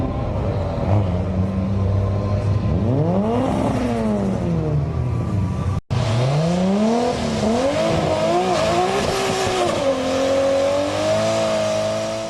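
Cars race down the track at a street drag meeting with a Nissan among them, engines revving hard and rising in pitch through the gears, loud and close, with a brief cut midway.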